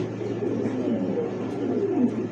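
Pigeons coo continuously at a pigeon sale, where Lahori, Mundian and Kokka breeds are offered. The birds are fairly close, with overlapping low throaty calls and no one talking.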